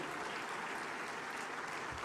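Sustained applause from a large conference audience honouring the Prime Minister of Barbados at the 30th Afreximbank Annual Meetings, a dense, even wash of clapping that holds steady throughout.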